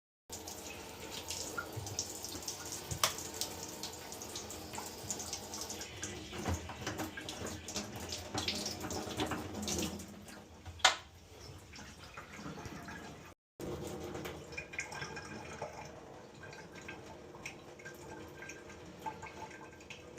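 Water draining from a cut drain pipe during a backflow valve install: a faint, continuous trickle and splash runs for about twenty seconds, broken by one brief gap.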